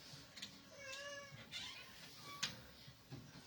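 Cat meowing several times in a row, a series of fairly close, drawn-out cries with short gaps between them over low background noise, with no talking.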